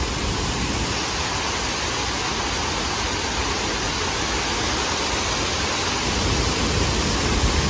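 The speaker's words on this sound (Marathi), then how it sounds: "खडकांच्या साह्याने जो वॉटरफॉल होतो तो नॅचरली होतो" A natural waterfall in a Konkan village spills over rocks in a loud, steady, broadband rush that fills the whole stretch without a break, with no voices over it.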